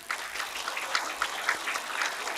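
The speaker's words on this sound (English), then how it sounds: "let's also give another warm round of applause to our brilliant panelists" A symposium audience claps for the moderator, a dense, steady patter of many hands at moderate loudness, near and continuous, with no talk over it.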